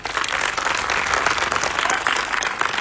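A large rally crowd bursts into dense, sustained applause, many hands clapping together in a loud, continuous wash that fills the whole stretch without a break.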